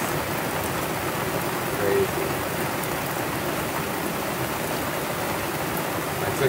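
Heavy Hurricane Elsa rain pouring onto a sailboat at anchor, a dense, loud, unbroken hiss of water drumming on deck and canvas, steady throughout with no talk.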